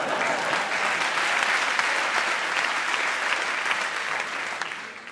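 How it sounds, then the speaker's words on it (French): A stand-up comedy audience applauds a performer named Bertrand, thick continuous clapping at moderate level that tapers slightly toward the end. "On applaudit Bertrand, on applaudit Bertrand."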